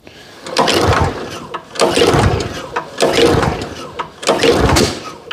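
Lawn care equipment engine, unused for five months without fuel stabilizer, cranked on choke: four rhythmic bursts of sputtering engine noise, each rising and cutting out, close and loud.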